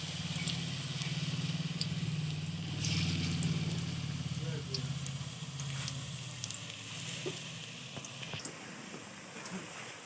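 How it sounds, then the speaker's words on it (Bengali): Gourd leaf fritters frying in a pan of hot oil, a steady close sizzle and bubbling that runs throughout, with occasional crackles on top. "কত সুন্দরভাবে তেলটা বুজবুজি কাটছে"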